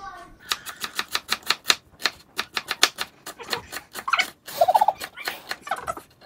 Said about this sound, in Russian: Лучок нарезается мелкой крошкой.